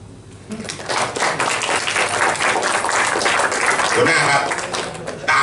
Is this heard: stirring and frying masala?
no